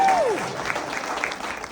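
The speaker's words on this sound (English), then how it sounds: "Give it a round of applause for the birthday girl." A comedy club audience applauds a birthday guest at the opening of a stand-up set, with steady clapping and crowd noise close by and the host's voice over it.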